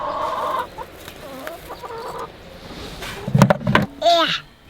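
Chickens working a potato garden on a farm cluck nearby in short, irregular bursts, with one louder squawk near the end and voices talking in between.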